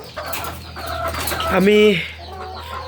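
Layer hens kept in cages on a poultry farm give a brief rising cluck close by, over a steady hum of farm noise, with someone speaking a word at the start.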